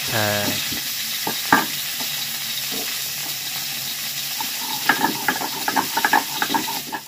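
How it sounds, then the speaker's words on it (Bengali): Cauliflower fries in a pan with a steady hiss and sizzle, while intermittent stirring clicks and scrapes grow busier toward the end. "দেখো ফুলকপিটা একদম ভালো করে ভেজে নিয়েছি।"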